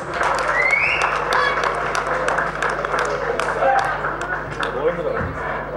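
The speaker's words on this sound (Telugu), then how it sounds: "among your claps please" An audience applauds as a guest is invited onto the stage, a steady wash of clapping from a crowd at an event, with a voice talking over it.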